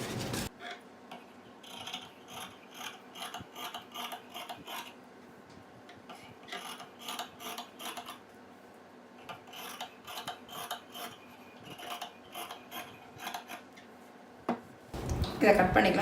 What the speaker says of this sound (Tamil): இதை கட் பண்ணிக்கலாம்.